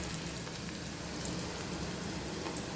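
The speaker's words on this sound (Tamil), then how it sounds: "சேர்த்து வதக்கிட்டு இப்போ காயை இதோட போட்டு வதக்கணும்" Beans and curry leaves are sautéing in a pan for a beans stir-fry. A faint, steady hiss of frying oil continues without a break, with no speech.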